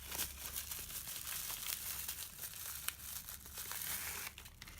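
Bubble wrap and a small pouch crinkle and rustle as a parcel holding a ring is unwrapped, with continuous close crumpling and brief tearing-like bursts throughout and no voices.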